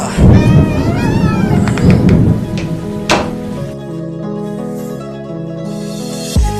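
A loud rumble of thunder with dense rain noise, a sharp crack midway, then a quieter steady hum.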